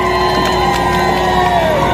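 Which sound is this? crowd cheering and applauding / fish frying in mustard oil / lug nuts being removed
crowd cheering and applauding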